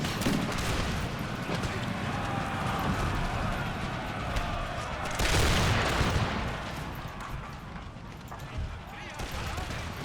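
Musket fire crackles through an Empire: Total War battle, a dense fusillade of overlapping shots with a louder burst of volleys around the middle, under someone talking.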